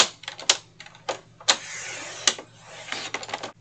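A 12x12 sheet of craft paper being trimmed on a paper cutter, giving a string of short sharp slicing and clicking strokes in an irregular rhythm, close and fairly loud, with no talking.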